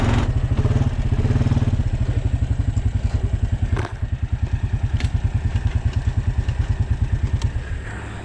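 A newly bought combine harvester engine idles while warming up, giving a loud, close, steady rapid chugging pulse with clattery mechanical detail and a brief dip in level midway, with no talk.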